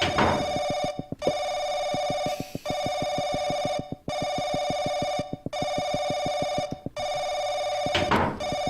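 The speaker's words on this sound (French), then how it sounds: "Bon, bah c'est parti pour un coup de téléphone." An old-style telephone bell rings loudly in the horror video game Paranoiac, in long repeated trills broken by brief pauses, with no voice over it.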